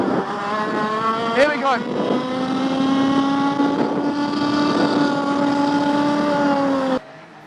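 An IAME Parilla kart engine howls on the track, its revs climbing and holding high in a loud, sustained buzz before cutting off abruptly near the end; a brief spoken phrase sits over the engine early on.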